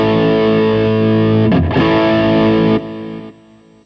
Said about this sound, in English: I just scooped a little mids, added a little warmth bass there, and a teeny bit of highs, and to just get a quick decent rock sound there